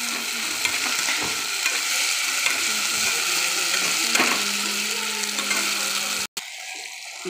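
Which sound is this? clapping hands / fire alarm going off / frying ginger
frying ginger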